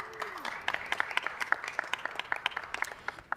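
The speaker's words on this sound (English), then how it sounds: "Please give them a round of applause." A council meeting audience claps for an honoured group, a steady patter of many hands at moderate distance that carries on evenly for several seconds.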